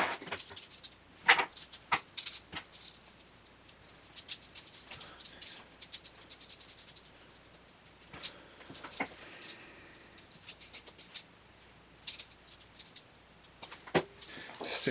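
Metal bolts and plates for a bearing puller being handled while a Hitachi machine is repaired, giving irregular close clinks, jangles and clacks, with quieter gaps between them.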